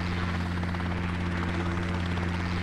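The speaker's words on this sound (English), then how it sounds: "It's a helicopter! Helicopters are so loud that you can hear them flying from miles away." A helicopter flies overhead with a steady, loud rotor thump and a droning engine hum that holds constant throughout, with no voices.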